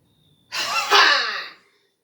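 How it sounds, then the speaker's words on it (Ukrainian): A single sharp, forceful breath during a yoga exercise, close and loud, rising quickly and lasting about a second against near silence. "Ще вдих."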